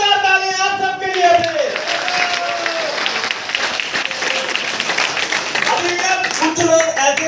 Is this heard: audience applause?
yes